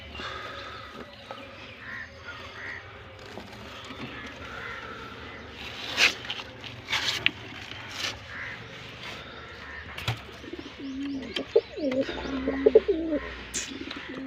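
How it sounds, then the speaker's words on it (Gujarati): Pigeons kept at home coo in low, soft, rolling calls, with a clearer burst of cooing near the end and occasional faint chirps and caws from other birds around them. "પેલા તો આ બે કબૂતર ન કાઢી દઈએ બહાર."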